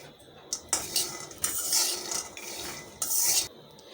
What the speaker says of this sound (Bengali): এখন আমি বাদামগুলোকে ভালো করে ভেজে নেব।